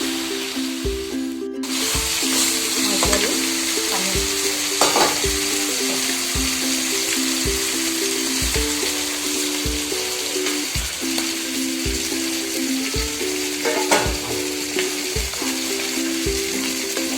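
Potatoes and spices frying in a pan for a tomato fish curry give a continuous close sizzle, marked by regular stirring knocks and a steady underlying tonal hum, with no voices.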